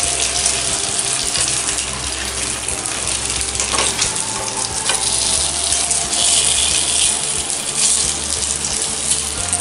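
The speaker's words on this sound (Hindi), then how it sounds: "बस 1 मिनट इसको अच्छे से फ्राई कर लेंगे।" Donut-shaped cabbage muthiya dumplings fry in hot oil, giving a steady, dense sizzle and bubbling hiss that carries on without a break.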